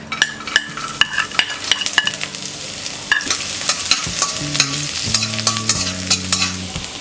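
Soaked almond pieces being dry roasted in a pan while making mango sooji halwa, with repeated sharp scrapes and clinks of a spoon stirring against metal over faint sizzling; no voice.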